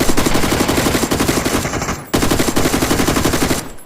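Rapid automatic gunfire in the battle-royale video game PUBG: loud, continuous fast bursts of shots, briefly cut off near the middle and then resumed, with no voices.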